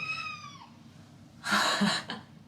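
A cat gives a single clear meow with a falling pitch, close and moderately loud, then a burst of rustling noise follows in a quiet room.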